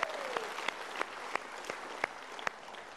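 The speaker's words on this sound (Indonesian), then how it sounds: "Kita berikan tepuk tangan." The audience at a motivational seminar applauds quietly, a soft bed of distant clapping punctuated by a few sharper, evenly spaced claps closer by.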